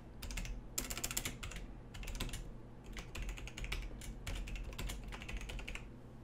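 Fingers tap out a password on a computer keyboard in quick bursts of close, crisp keystrokes separated by brief pauses, with no talking.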